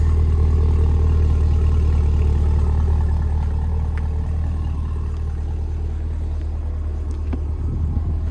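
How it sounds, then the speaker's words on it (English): A supercharged V8 in a 2026 Cadillac CT5-V Blackwing rumbles steadily at idle, a deep, even exhaust drone close by with no talk over it. "And of course, a lovely exhaust note."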